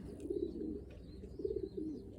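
Pigeon chicks cooing in a loft, soft low repeated coos in two phrases over a quiet background hum, close by with no talking.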